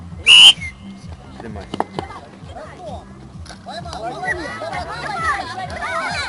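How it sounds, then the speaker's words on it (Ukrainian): A single loud, shrill whistle blast starts a tug-of-war at a family festival in Koriukivka, followed by excited crowd chatter and children's voices rising underneath. "Внимание, ждем свистка!"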